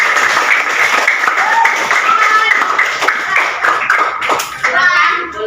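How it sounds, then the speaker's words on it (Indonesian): A fifth-grade class claps their hands together in a school classroom, with dense, steady clapping filling the room while children's voices chatter underneath. "Oke, tepuk tangan buat kelas 5."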